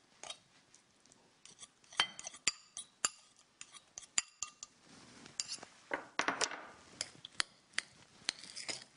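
Quinoa salad with tuna in sunflower oil being stirred together in a bowl, with a string of sharp utensil clinks and scrapes coming in irregular bursts, close and fairly quiet.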